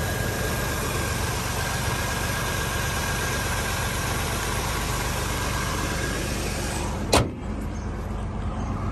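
Under the open hood, a 1999 Pontiac Grand Am GT with Ram Air idles with a steady, even hum and fan whir, close and constant, broken near the end by a single sharp click or knock.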